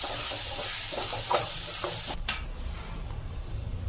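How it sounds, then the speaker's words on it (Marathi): Steady sizzling of mutton masala and garam masala spices frying in a hot pan while being stirred, with faint scraping strokes and a brief clatter partway through, no talk. "आणि हा आपला मटन मसाला. एकत्र ढवळून घेऊया."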